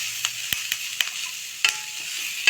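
Carrot and capsicum lightly sautéed for fried rice, giving a soft steady sizzle broken by a few sharp clinks and scrapes of a spatula against the pan, close and moderately quiet.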